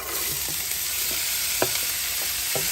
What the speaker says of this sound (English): We just add a little bit of oil again and start with the vegetable.